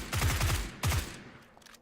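Gunfire from a first-person shooter video game comes in two quick bursts of rapid, punchy shots close together, the second burst shorter, followed by a fading tail. No one speaks over it.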